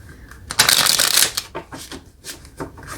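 Tarot cards are shuffled close by in quick riffling bursts, one long loud flutter followed by several shorter shuffles.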